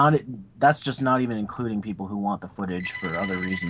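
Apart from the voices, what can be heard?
phone ringing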